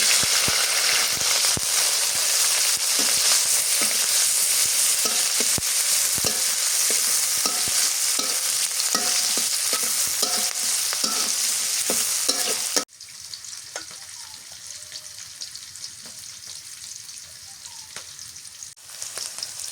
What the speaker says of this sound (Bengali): কাঁচামরিচ আর পেঁয়াজ কুচি দিয়ে দিই।